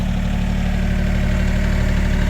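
A tractor engine idles steadily and close by during work pulling Volvo 270 outdrives and engines from a pair of Bayliner boats, a constant low rumble with even vibration and no talk.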